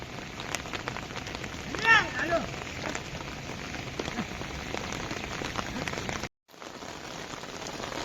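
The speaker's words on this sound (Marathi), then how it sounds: "नांगरणी करताना पाऊस बघा वाढलाय" Heavy monsoon rain pours onto a flooded paddy field in the Konkan during ploughing, a dense, steady hiss of drops on water that briefly drops out near the end before resuming.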